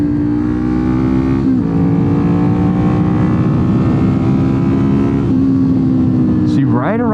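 Kawasaki Ninja 400 motorcycle with an aftermarket exhaust revving high near 7,000 RPM, a loud steady buzzing engine note that holds, dips briefly and climbs again, with someone talking over it.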